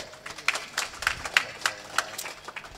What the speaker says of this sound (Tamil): இந்த 3 பேர்த்துக்கு ஒரு கைதட்டு கொடுங்க